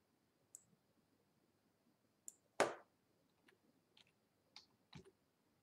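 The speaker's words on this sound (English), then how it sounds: "I'm just going to click save here" A computer mouse and keys give a handful of sharp, quiet clicks scattered unevenly, with one louder knock in the middle, close up in an otherwise quiet room.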